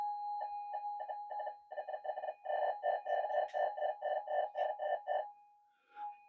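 Minelab GPX4000 metal detector on a booster at full volume, giving a run of rapid, pulsing electronic tones in quick bursts, clear and fairly quiet, then a single fading tone.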